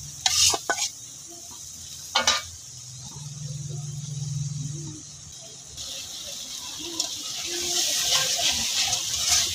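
Masala with green chili and onion paste fries in oil, giving a steady hiss and sizzle with occasional stirring clatters and scraping, fairly close and continuous throughout.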